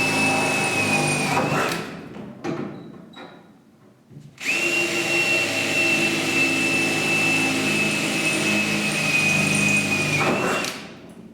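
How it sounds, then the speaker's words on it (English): A power drill whirs in a short burst, pauses, then runs again with a steady high-pitched whine for several seconds before winding down, drilling holes in a Mk 1 Escort's chassis rail metal. "So I'm going to get a drill, and put a couple of holes in there"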